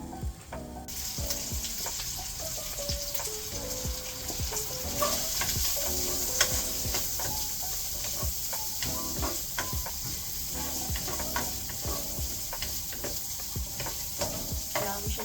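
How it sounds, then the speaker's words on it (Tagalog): Food frying in oil in a pan, mixed with cream, is stirred constantly so it won't stick, giving a steady loud sizzle with repeated utensil scrapes and taps throughout. "Kailangan mo siya lagi haluin kasi naninikit siya."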